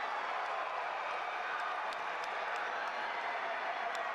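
A crowd in the stands at a state high school wrestling championship roars after a match win, with steady, dense cheering and applause that stays loud and continuous throughout.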